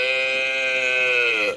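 A cartoon cow sound effect rendered as a goat-like bleat, one drawn-out wavering call heard alone, loud and close, fading at the very end.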